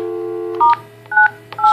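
Telephone keypad DTMF tones sound on a Cisco SPA 504G phone dialing a voicemail code, four short clear beeps in quick succession over a steady dial tone.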